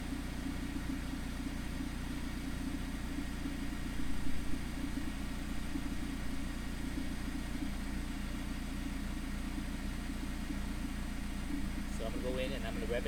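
A Mazda ND Miata engine holds a steady high idle to warm the catalytic converter, a continuous low rumbling drone at constant loudness throughout, with a faint voice showing only near the end.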